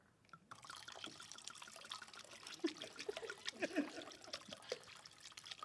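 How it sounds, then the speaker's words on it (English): Blackberry wine poured into a glass over fresh blackberries, a soft continuous trickle with small splashes and drips, fairly faint and close. "And then I'm going to pour a little bit of wine."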